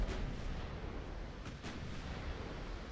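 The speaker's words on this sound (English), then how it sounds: "Full salvo, bow guns only" Battleship bow guns fire a full salvo in Ultimate Admiral: Dreadnoughts, a dense rolling boom that holds loud for the whole stretch, with sharper cracks near the middle.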